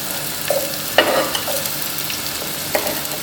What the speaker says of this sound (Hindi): जैसे हमारा ऑयल गर्म होगा तो हम इसमें प्याज डाल देंगे।